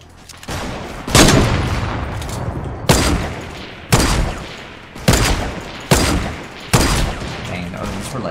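Gunshots in a Fortnite sniper shootout mode, six loud, sharp shots spaced about a second apart, each with a short echoing decay, plus a fainter earlier shot, with some background game noise.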